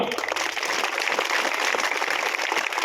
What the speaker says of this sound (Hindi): पहले तो जोरे दी तालियां बजा